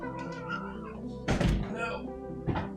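A house cat meows a couple of times close by, short tonal calls with a soft thump partway through, while a person talks over it.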